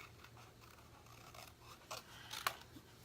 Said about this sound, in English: I'm just going to cut these out real quick.